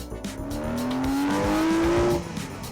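A Porsche 986 Boxster S sports car engine revs up with a rising, climbing tone, then drops off abruptly as it drives, loud and close.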